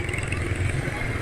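A motorcycle engine runs smoothly with a steady, even hum while being ridden, heard close under a man's speech.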